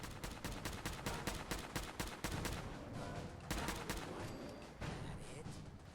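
Rapid bursts of gunfire in Fallout 4: Nuka World, a dense volley of sharp repeated shots with brief pauses, loud and close, with fighting going on around it.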